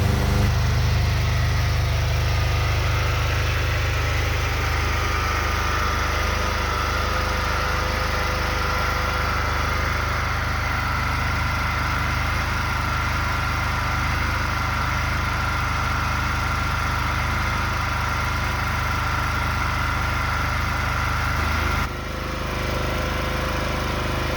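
A petrol generator runs with no load at about -20 degrees in winter, a loud, steady engine drone with a constant low rumble throughout and a brief dip in level near the end.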